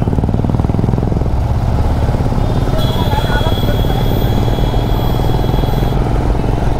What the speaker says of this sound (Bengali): সব বাইকার্সরা দেখতেই পাচ্ছেন বেরিয়ে গেছে যে যার বাইক নিয়ে